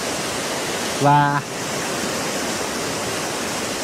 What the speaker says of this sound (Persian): ماشاءالله تقریبا 4 اینچ آب خوب پرفشار از اینجا خارج میشه.